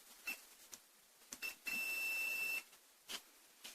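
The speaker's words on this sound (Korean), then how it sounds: "소리 나는 걸 했을 때 여기를 찍게 되면은 부저 소리가 나야 되겠죠?" A steady multimeter continuity buzzer tone sounds for about a second while testing a battery charger, surrounded by faint clicks and taps of probes touching metal.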